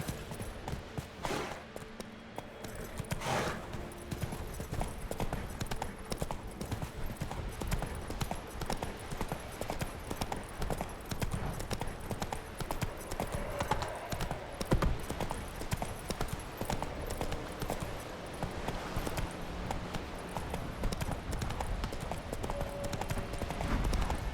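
Continuous, rapid clip-clop of a horse galloping across terrain in The Witcher 3 video game, steady and close throughout, with a brief whinny-like burst near the start over a constant bed of ambient game sound.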